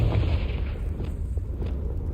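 A Confringo spell blast in Hogwarts Legacy booms with a deep, rumbling explosion that starts loud and slowly decays into a low roar.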